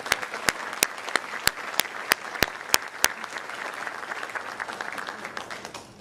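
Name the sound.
audience applauding award recipients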